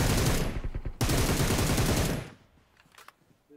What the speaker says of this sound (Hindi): स्मोक करते ही ये फायर करता है